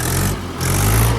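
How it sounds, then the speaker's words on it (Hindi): A Mahindra 475 DI tractor engine runs just after starting, a short, loud, low rumbling chug that dips briefly in the middle before resuming. "तो ये हो गया है ट्रैक्टर स्टार्ट।"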